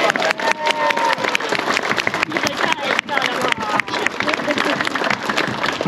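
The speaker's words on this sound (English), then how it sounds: "If he gets this, a big clap." Spectators at the Flamingo Land sea lion show give a big clap for a sea lion's hoop trick. The crowded, lively clapping is mixed with crowd murmur, and a voice can be heard over it.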